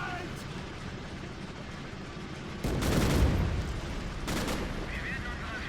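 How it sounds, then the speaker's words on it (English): Artillery fire in the WWII strategy game Men of War: Assault Squad, a Rhine battle, comes as a heavy booming blast with a long rumbling tail partway through, followed by a second burst of firing over a constant battlefield din. "Okay, they're firing artillery"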